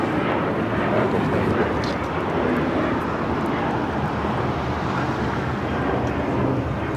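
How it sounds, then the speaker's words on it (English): A Delta Boeing 737-800 takes off at LAX with a loud, broad, continuous engine roar. The sound stays steady and dense from start to finish, with wind rumbling underneath. "This is Delta Airlines 478 taking off to Austin on the 737-800."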